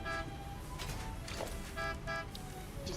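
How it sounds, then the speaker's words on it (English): A car horn sounds in a few short toots spaced across a few seconds, moderately loud over a busy background with faint movement. "You know Martin would never honk a horn at a lady."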